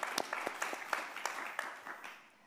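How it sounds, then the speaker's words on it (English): Scattered clapping from a small audience at a developer panel, distinct individual claps in an uneven rhythm that thin out and fade over a couple of seconds. "Meet David, give him a round of applause."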